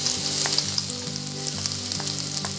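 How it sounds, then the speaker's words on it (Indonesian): Garlic stir-fries in leftover tofu frying oil, sizzling and crackling steadily at close range with faint scraping from stirring, and no voices. "Dan sekarang kita tumis bawang putihnya."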